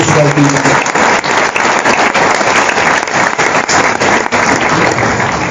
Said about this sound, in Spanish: Dame un aplauso al Espíritu Santo